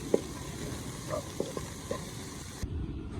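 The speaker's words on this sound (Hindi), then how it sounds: "चम्मच चलाते हुए मिर्चों को भी अच्छे तरीके से भून लेंगे।" Green chillies frying in a pan with egg give a low, steady sizzle, while a spoon stirring them adds several light taps and scrapes. The frying stays faint and close throughout.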